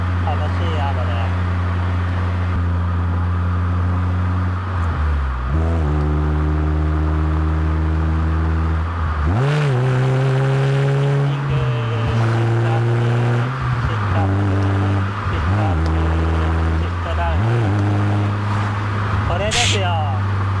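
Honda CR-Z Mugen RZ with a six-speed manual gearbox, driven on an unfamiliar road: a loud, steady engine drone rises and falls through several gear changes, revving up and dropping back repeatedly, with a driver talking over it at times.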